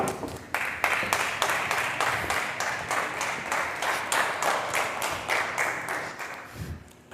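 A stage audience at a talent show opening night applauds a guest being welcomed on stage, with continuous moderately loud clapping lasting several seconds and fading slightly at the end.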